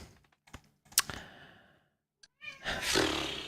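A cat gives a couple of short, fairly close meows between clicks and rustles, followed by a louder burst of broadband noise.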